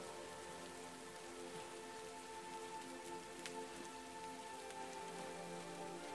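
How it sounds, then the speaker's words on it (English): Soft rain falls steadily onto rock pools at Portacloy on the Irish coast, a gentle, even patter with a faint sustained tonal hum beneath it and no speech. "The sound of raindrops hitting the surface of the rock pools created a gentle,"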